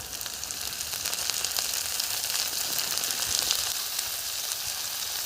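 Onion and potato frying in a pan of hot oil: a steady, bright crackling sizzle that holds evenly throughout, close and moderately loud, with no voices.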